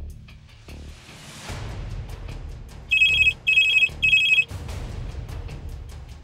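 A telephone ringtone sounds in three short, loud bursts midway through, over a continuous background of murmuring noise and music-like sound.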